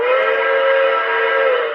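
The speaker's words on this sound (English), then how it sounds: "I love the whistle on here." A Lionel toy steam locomotive sounds its whistle in one steady, loud, continuous blast that lasts for nearly two seconds without a break.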